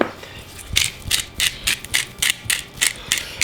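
Salt and pepper mill twisted over coated potatoes for restaurant-style baked potatoes, about ten quick, evenly spaced gritty grinding clicks, close and fairly loud, alone.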